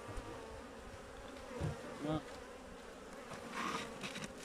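Steady, dense buzzing of many honey bees near the hive during pre-winter hive maintenance, continuous and low, with a faint voice and a few handling noises underneath.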